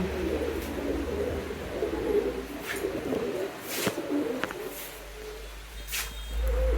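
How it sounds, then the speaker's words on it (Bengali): Pigeons, including black Lahori, Danish and red Lahori birds, coo softly and steadily while feeding, with occasional brief chirps and faint rustling throughout, close by and without talk. "আমার কবুতরগুলো খুব সুন্দর খাবার খাচ্ছে"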